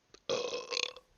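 A man lets out one loud, close burp that lasts just under a second, with a short faint sound before it.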